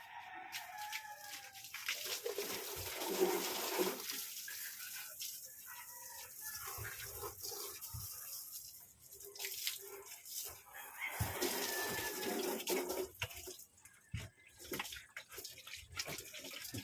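Water sprayed from a hose onto a muddy motorcycle during washing, a steady hiss with splashing that rises and falls over many seconds, with a rooster faintly in the background.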